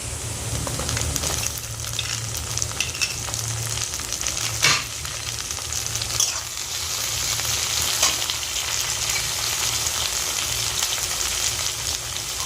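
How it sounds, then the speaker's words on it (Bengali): Chopped tomato added to a pan of already-fried onion sizzles in a steady, close hiss, with a few faint clicks and brief bursts, and no voices. "পেঁয়াজটা ভাজা হয়ে গেছে এবার আমি টমেটো কুচিটা দিয়ে দেবো"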